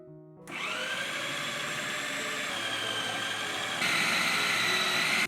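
An electric grinder whirs through a mixture of kebab spice and chickpeas: a loud, steady motor hum that starts abruptly, holds, then jumps a little louder near the end before cutting off, with no voices.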